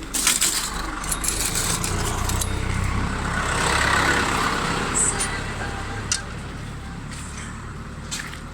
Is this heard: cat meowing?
no